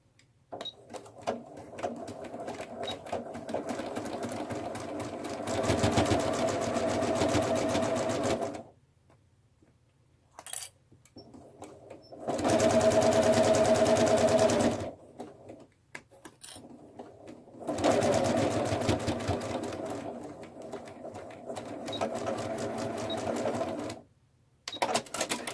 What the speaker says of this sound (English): we're going to sew straight across again, 1/4 inch.